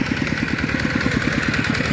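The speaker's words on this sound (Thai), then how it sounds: "วันนี้เรามาดูรถไถนาเดินตามครับ" A walk-behind rice paddy tractor engine runs close by with a loud, steady chugging rhythm of rapid, even thumps and a clattering edge, with no voices.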